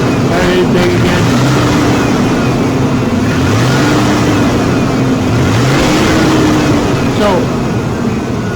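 Car engine being revved up and held at varying RPM during EGR diagnosis, a steady loud idle-to-rev drone with gentle rises in pitch, with a person talking over it.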